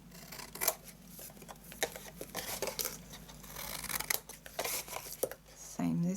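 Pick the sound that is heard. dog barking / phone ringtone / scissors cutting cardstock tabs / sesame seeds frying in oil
scissors cutting cardstock tabs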